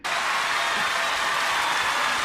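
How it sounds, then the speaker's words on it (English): Concert crowd applause after a performance: a continuous wash of clapping and cheering, steady and moderately loud without pause. "Let's continue to hear the applause here."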